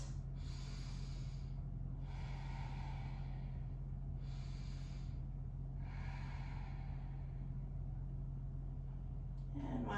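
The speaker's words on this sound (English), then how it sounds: "Let's take 2 more breaths." Slow, deep breathing during a wall yoga session, four long breath swells spaced about two seconds apart over a steady low hum, close and soft with no talking.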